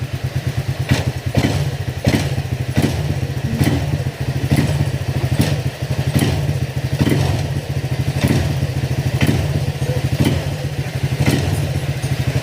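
A motorcycle engine runs after an ignition coil repair, putting out a loud, steady, rapid low thumping idle with regular clattering knocks, close by and alone with no talk.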